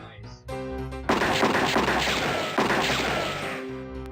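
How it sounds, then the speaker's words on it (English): Gunfire erupts in front of the saloon in the Freddy Pharkas adventure game, a dense burst of shots and crashing noise mixed with yelling and shouting, following a brief musical lead-in. "Without warning, you hear gunshots out in front of the saloon, plus lots of yelling and shouting."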